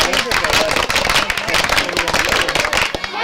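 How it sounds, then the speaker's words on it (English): Vikings football fans in stadium stands clap their hands during a game, dense rapid clapping mixed with crowd noise and cheering, loud and continuous throughout. "let me hear you clap your hands."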